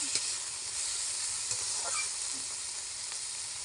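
Mustard flowers and whole green chilies fry in a pan with a steady, soft sizzle and crackle, close by, broken by a few light clinks of stirring and no voices.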